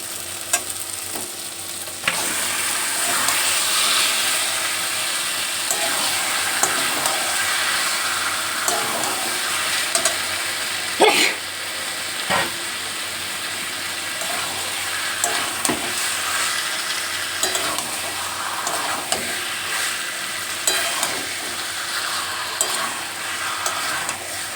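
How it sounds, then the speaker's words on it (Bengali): Marinated chicken for chicken kasha sizzles steadily in a hot pan while a spatula scrapes and stirs it in irregular clicks and knocks, loud and close throughout with no talking. "মধ্যে আমি ম্যারিনেট করা মাংসটা দিয়ে দেবো।"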